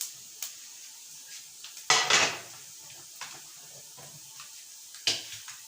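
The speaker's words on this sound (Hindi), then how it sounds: "ये तमाम खड़े मसाले ऐड करके इसको थोड़ा सा सौते करेंगे" Whole spices and mustard seeds sizzling in a pan for a Hyderabadi brinjal dish, with soft crackling and a few sharp metallic clinks of a utensil against the pan, the loudest burst near the middle.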